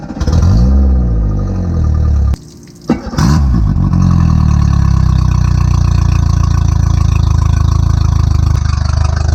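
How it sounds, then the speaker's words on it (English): A boat's outboard engine is started on flushing muffs with only the fuel left in it, catching after a brief stumble and then idling loudly and steadily at close range. "Now I'm just gonna throw on the muffs and fire up for a minute, make sure everything's running good"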